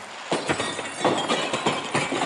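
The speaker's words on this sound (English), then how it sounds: "William looked for a rock to break the glass" A rock smashes the glass window of an old house, producing a quick series of sharp crashing and clinking glass bursts at close range, with no one talking.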